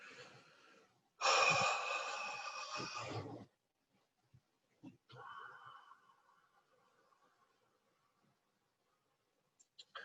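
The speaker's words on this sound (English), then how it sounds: "And exhale, releasing all tension." A long, deep breath out during a guided relaxation breathing exercise, loud and breathy for about two seconds, followed by quieter breathy sounds and near silence.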